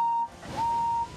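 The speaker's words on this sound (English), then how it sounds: "As Henry whistled from the other platform" Steam engine whistle from the Thomas & Friends railway, two clear sustained toots, the second longer, sounding from across a station platform.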